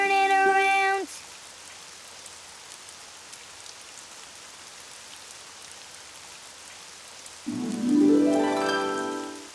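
Cartoon rain falling outside, a steady soft hiss of drops running through the middle stretch, framed by short musical tones at the start and end.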